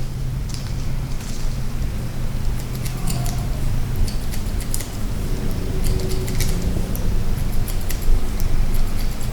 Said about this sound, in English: if you want it to blend in with the hair, then you grab the hair this way and cut